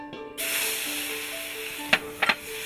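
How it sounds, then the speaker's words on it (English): Meat and garlic hit smoking-hot oil in a wok for Thai pad see ew, bursting into a sudden loud, hissing sizzle that holds steady, broken near the end by two quick sharp clatters. "wait until the oil gets really smoky. So first you add the meat and the garlic."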